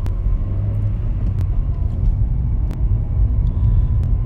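A car drives down a bumpy country road in the Cotswolds, giving a steady loud engine rumble and road roar with occasional sharp knocks and jolts from the uneven surface.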